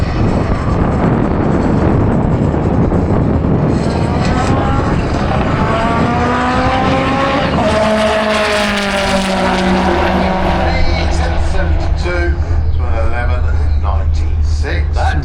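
A Seat Leon drag car launches down the Santa Pod strip in a loud, rising engine run, gear changes stepping the pitch up before it settles into a steady drone, with a commentator talking over it throughout.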